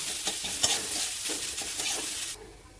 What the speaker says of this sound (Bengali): ভালো করে নেড়ে একটু ভেজে নেব